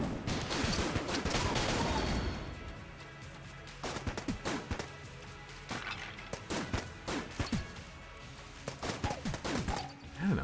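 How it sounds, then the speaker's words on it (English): Hegemony rifle in the game Enter the Gungeon firing scattershot helix bullets, heard as dense rapid bursts of overlapping shots, a sustained volley at first and then repeated clustered bursts with brief gaps, loud and close. "I like seeing all of those shots kind of come out of the hegemony rifle."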